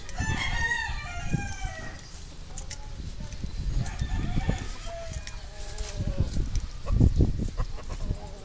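Roosters crow and hens cluck in a busy yard, with a crow standing out early on and people talking over the birds.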